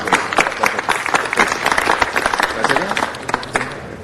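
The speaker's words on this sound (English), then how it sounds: "Please give him a round of applause" Loud, dense applause from a city council meeting audience for a professor, many hands clapping steadily and close for several seconds, with voices and cheering mixed in.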